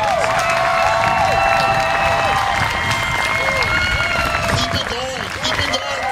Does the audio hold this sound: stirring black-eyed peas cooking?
no